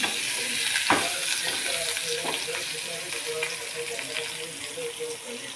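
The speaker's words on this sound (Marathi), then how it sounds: "हे बघा पनीर आपलं फ्राय करून घेत आहे" Paneer fries in a hot pan with a close, continuous sizzle, stirred now and then with scraping clicks, and a brief sharp knock near the start.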